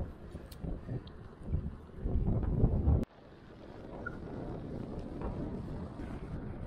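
Strong headwind buffets a rider on a mountain bike during a long 100 km road ride, roaring in uneven gusts close to the microphone and then settling into a steadier rush.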